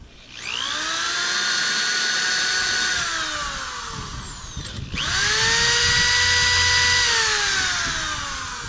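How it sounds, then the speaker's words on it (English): A 1/4-inch electric drill runs at high speed in two loud, sustained bursts with a steady whining pitch, marking pilot-hole spots in a tractor seat base, with a brief pause between runs. "now I can use a 1/4-inch drill just to mark where the pilot drills have to go in the seat base."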